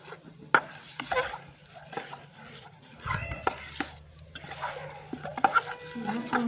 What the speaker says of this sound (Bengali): এবার গরম জল দিয়ে দেবো পরিমাণ মতো, ভালো করে গুলে নেব।